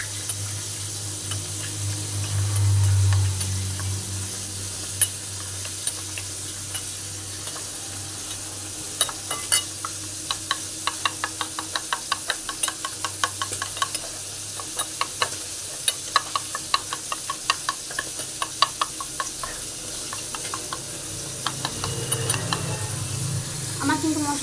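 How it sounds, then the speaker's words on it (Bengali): Spice paste being stirred and fried in oil in a pan for a rohu or katla fish curry, a steady soft sizzle broken by frequent clicking scrapes of the spoon, close up. "আমি পেস্টটা একটু ভালো করে একসাথে সব মশলাগুলো একসাথে"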